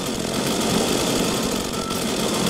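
A saw in the Minecraft video game chewing into a mob, a dense continuous buzzing grind with rapid choppy texture, loud and unbroken, no speech.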